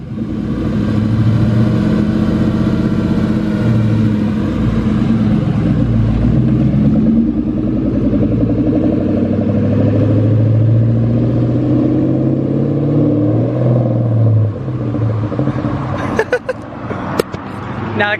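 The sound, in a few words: 2020 Kawasaki Z650 motorcycle engine revving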